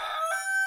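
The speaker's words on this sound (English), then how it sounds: "Bloody roosters." A rooster in the Farming Tycoon video game lets out a brief, clear crow, close and moderately loud, on its own.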